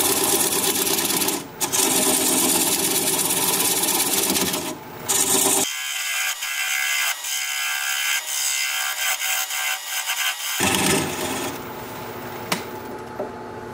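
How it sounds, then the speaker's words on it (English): A wood lathe turning weeping birch at about 500 RPM as a 3/8 inch bowl gouge cuts away a tenon, giving a loud, continuous scraping whir with brief dips and a shift in tone midway. "Gonna grab a 3/8 inch bowl gouge and commence to removing that tenon."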